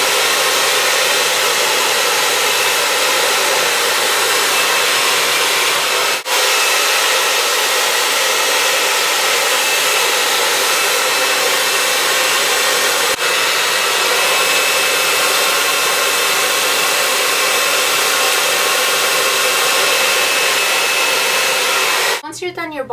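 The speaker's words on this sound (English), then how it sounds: "When you're blow drying the hair, key things you want to remember is you want to get the brush right under the hair" Hair dryer blowing hair dry with a brush, a loud, close, steady roar that runs almost unbroken for the whole stretch, with only a couple of faint clicks and a brief flutter at the end.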